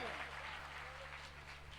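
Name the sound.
loud applause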